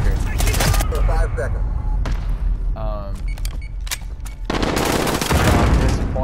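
A light machine gun fires in Call of Duty: Modern Warfare, with dense bursts of loud rapid gameplay gunfire, sharp impacts and thuds, and a brief gap near the middle.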